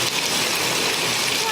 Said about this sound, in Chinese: 冰雹